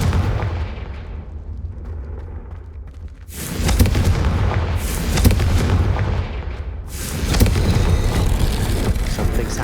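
Confringo fire spell blasts in Hogwarts Legacy gameplay, loud booming bursts that erupt suddenly after a quieter stretch, with a second heavy barrage a few seconds later, rumbling and crackling without talk.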